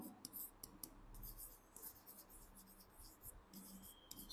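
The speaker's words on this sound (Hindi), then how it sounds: "तो हम यहां पर एक स्टेटमेंट लिखते हैं" A pen writes a statement on paper in a Class 12 accountancy lesson, with soft irregular scratching strokes and light taps, close and quiet, with no talking.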